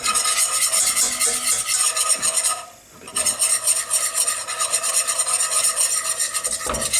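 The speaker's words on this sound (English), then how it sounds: "And our flour, just start whisking that in, a bit at a time." A whisk beats flour into melted butter for a mac and cheese roux, a fast, rhythmic rasping scrape against the pan that runs continuously, pauses briefly midway, then resumes, close and loud.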